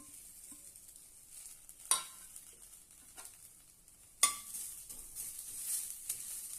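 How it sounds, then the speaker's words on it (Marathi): Finely chopped coriander is dry-roasted in a pan for mint chutney, with a soft sizzle and two sharper spoon scrapes against the pan, close but quiet, no speech. "आता आपण कोथिंबीर पण भाजून घेऊया"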